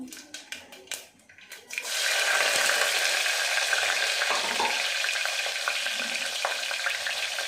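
Cumin, mustard seeds and chillies dropped into two or three tablespoons of hot oil in a kadai: a few sharp clicks and pops, then a sudden loud, dense sizzle that holds steady and close.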